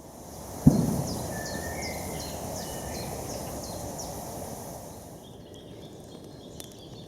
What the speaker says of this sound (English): Hear a chiff chaff up there.